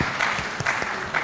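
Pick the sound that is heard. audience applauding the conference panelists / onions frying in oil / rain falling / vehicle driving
audience applauding the conference panelists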